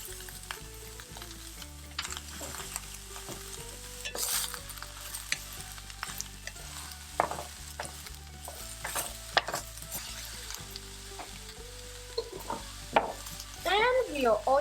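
Cabbage sautés in a pan with a steady close sizzle, broken by stirring scrapes and clinks of a utensil against the pan, growing louder near the end.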